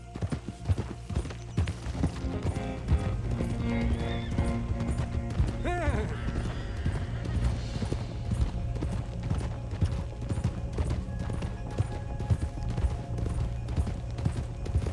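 Horse hooves pound out a fast, steady clip-clop gallop in Red Dead Redemption 2, with game ambience and a brief whinny-like tone mixed in throughout.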